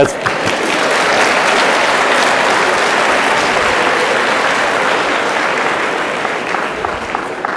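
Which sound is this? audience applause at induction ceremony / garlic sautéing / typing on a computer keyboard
audience applause at induction ceremony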